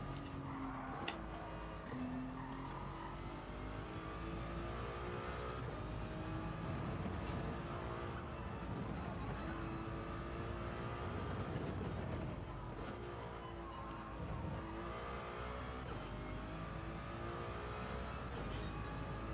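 Ferrari race car engine in the Gran Turismo 7 racing game, a steady high-pitched whine rising and falling through repeated gear shifts across the whole stretch, loud and continuous with no talk over it.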